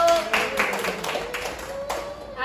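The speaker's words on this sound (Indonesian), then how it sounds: "kasih tepuk tangan Bapak Ibu" Hands clap in a small gathering of parents at a school discipline session, a few scattered claps rising and fading over a couple of seconds beneath a steady hum of voices.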